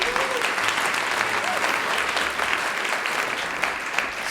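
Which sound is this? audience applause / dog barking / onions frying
audience applause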